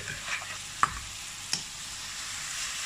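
Pancetta for carbonara stirred in a hot pan, a steady soft sizzle under a few light scraping clicks of the utensil, close and fairly quiet, no voices.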